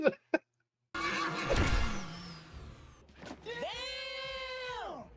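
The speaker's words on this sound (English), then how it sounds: "Dude just punched a horse." A horse whinnies loudly in an animated Masters of the Universe: Revelation episode, a long rising-then-falling neigh that follows a short burst of scuffling and impact noise.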